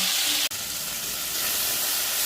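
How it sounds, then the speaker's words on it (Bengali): Tomato and onion frying together in a pan for a spicy Bengali sorpunti fish curry, giving a steady close sizzling hiss throughout, broken by a brief dropout near the start. "সবগুলোকে আমি ভাজা ভাজা করে নেব"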